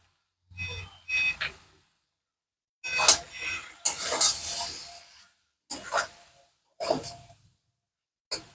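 Pakora mixture stirred and sautéed in a pan, heard as a string of short, separate scraping and rubbing strokes with brief silent gaps, close and fairly soft.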